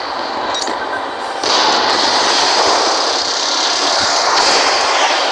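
Sky Warriors aircraft combat video game plays a loud, dense roar of jet engines and rushing air, swelling slightly partway through as a missile strikes, with faint speech underneath.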